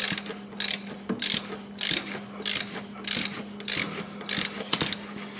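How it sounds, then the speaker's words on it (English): A ratchet tightens the plastic oil filter housing on a Mercedes-Benz GLA with a steady series of crisp clicking strokes, about two per second, close and clear with no talking. "need to tighten that oil filter housing there"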